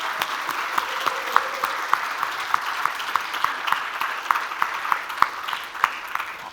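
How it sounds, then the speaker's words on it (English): An audience gives a round of applause at the close of a talk, with fairly sparse, individually distinct claps rising and falling at moderate distance for several seconds. "So if we can give a round of applause"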